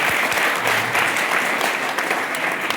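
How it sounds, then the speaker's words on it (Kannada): Loud, dense applause from an audience at a memorial gathering, honoring a student, sustained clapping filling the room close by throughout, with no pauses. "ಆ ವಿದ್ಯಾರ್ಥಿನಿಗೆ ಜೋರಾದ ಚಪ್ಪಾಳೆ ತಟ್ಟಬೇಕು"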